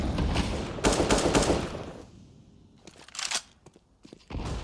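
HE grenade blast in a Counter-Strike professional match between G2 and Big at ESL Katowice 2023, a loud burst of gunfire-like cracks and crunching followed by quieter shots and a renewed loud burst, with no talking.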